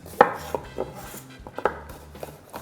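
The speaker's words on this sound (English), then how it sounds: "Nice sharp knife, yeah? Just cutting through that." A sharp knife slicing vegetables into julienne strips on a board, a handful of crisp irregular chops close by, the strongest at the start, with no speech.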